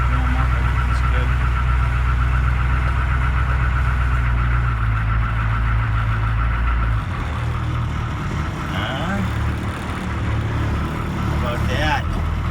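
A CUCV M1008 military pickup truck idles while warming up, its engine a loud, close, steady low rumble that holds constant with only a slight drop in level partway through.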